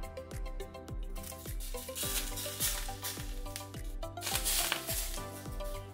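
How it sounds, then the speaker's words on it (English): Hot oil poured over parsley and onions on steamed salmon, crackling and sizzling with bright bursts, close and fairly faint, alongside rhythmic clinking hits and no talk. "we're gonna take some of the hot oil and put it on top"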